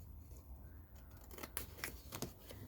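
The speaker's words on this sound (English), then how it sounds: "we're going to snip this off this time" Scissors snip through paper while crackers are being made, a few crisp close cuts in quick succession over a quiet room.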